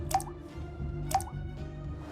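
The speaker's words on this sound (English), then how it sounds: "they could hear water dripping everywhere." Water drips inside a deep flooded cave, two distinct drops about a second apart, each a sharp close plop, over a steady low background hum.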